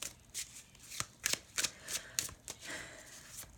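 Tarot cards shuffled by hand during a reading, a close series of crisp riffling bursts and soft slaps in an irregular rhythm, clear and alone with no talking.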